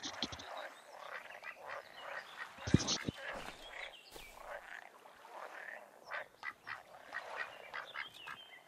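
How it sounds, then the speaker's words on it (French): A toad croaks repeatedly beside the water in a carp-fishing game set in Czechoslovakia, with raspy, irregular calls of moderate loudness and a few sharp clicks in between. "Il faut s'éviter un crapaud."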